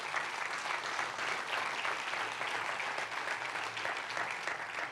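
A church congregation applauds God during a sermon, with dense, steady clapping from many hands that fills the room evenly from start to finish, fairly distant and moderately loud.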